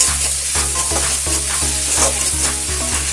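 Fish with turmeric powder and salt is stirred in a hot pan, a dense close sizzle with evenly spaced scraping strokes about every half second.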